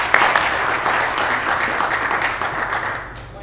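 Applause from an audience at a talk on innovative business, a steady wash of clapping at moderate level that fades gradually toward the end.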